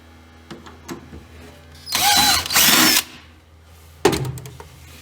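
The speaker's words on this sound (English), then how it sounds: "just drill a hole, put a rivet in, drill another hole, put a rivet in" A power drill boring rivet holes through a skoolie's floor, two bursts of loud, close whining drilling, the second longer, then a sharp clunk after a pause, with quiet handling noise around it.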